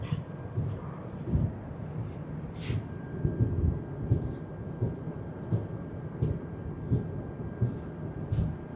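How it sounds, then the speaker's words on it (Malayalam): A passing train near a river crossing, heard as a low continuous rumble with rhythmic thumps and clatter, moderately distant and steady throughout, with faint higher hiss bursts and no talking. "ഒരു ട്രെയിൻ വരുന്നായിരുന്നു അല്ലേ"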